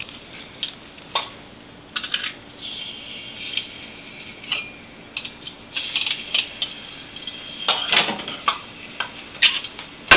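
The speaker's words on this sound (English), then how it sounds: "now we're going to press the garlic into the pan just one by one" Light clicks and small metallic clatters of garlic pressed one clove at a time into a hot pan, irregular taps scattered over a soft background hiss, close and fairly quiet.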